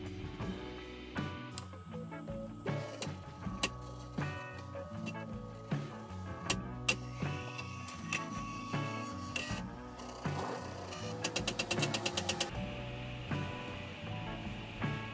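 A 3D printer, a Prusa MK3S alternative, running its self-test: motors whir and step in shifting tones, with sharp clicks and a rapid buzzing burst near the end, all fairly close and without talk.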